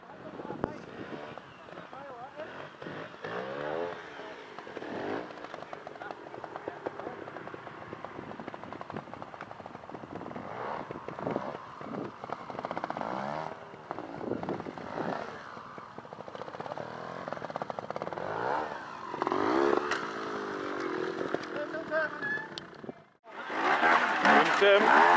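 A trial motorcycle rides through a section at a team trial event, its engine a steady, fairly close drone that rises and falls throughout, with people talking over it and wind buffeting the microphone near the end.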